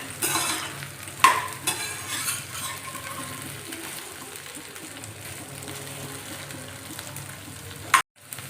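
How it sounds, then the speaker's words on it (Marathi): Okra for an okra-potato masala lightly frying in a pan over high heat, a soft continuous sizzle broken by a few sharp utensil clinks and stirring scrapes near the start and end. "थोडी फ्राय करून घेणार आहे म्हणजे त्याचा चिकटपणा आहे तो कमी होतो"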